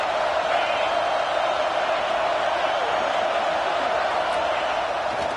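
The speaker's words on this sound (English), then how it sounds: "This crowd ready to make its presence known." A college football stadium crowd against Clemson roars in a steady, dense wash of cheering, sustained and loud from start to end with no clear breaks.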